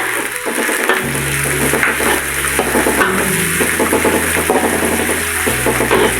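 Sliced garlic fries in cooking oil and is stirred, a loud, close, constant sizzle broken by scraping stir strokes, with no talk.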